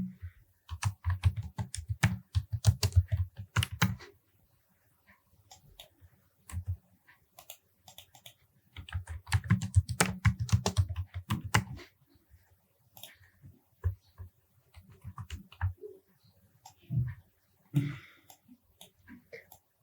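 Bursts of computer keyboard typing, close and fairly loud, in two long runs with scattered keystrokes and brief pauses between them.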